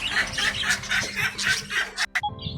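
Chickens cluck and squawk at an animal rescue centre in Sirsi: a close run of busy, rhythmic clucks, then a few sharp bursts before the sound cuts off abruptly.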